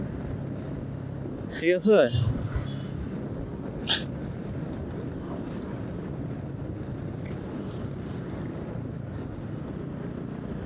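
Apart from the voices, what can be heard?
strong wind on a mountain road, wind noise on microphone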